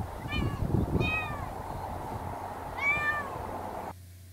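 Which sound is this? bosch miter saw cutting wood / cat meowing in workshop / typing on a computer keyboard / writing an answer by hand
cat meowing in workshop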